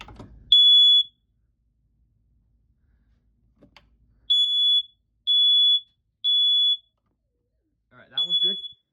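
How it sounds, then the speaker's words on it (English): Household smoke alarms are tested one after another, giving four or five loud shrill piercing beeps in bursts with silent gaps between them, and a voice speaks briefly near the start and at the end. "This will be a test of all these smoke alarms."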